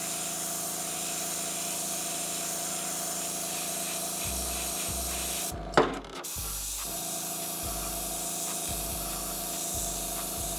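An airbrush sprays paint onto an RC car body, a steady faint hiss with a brief louder burst in the middle and intermittent low thumps of a compressor underneath, no talk.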